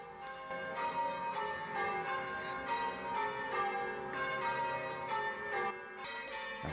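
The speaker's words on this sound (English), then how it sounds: "in the tower are Ireland's oldest church bells, dating from 1423" Ireland's oldest church bells, dating from 1423, ring repeatedly in a Dublin church tower in a steady, overlapping peal, their bright metallic tones sustained and fairly distant throughout.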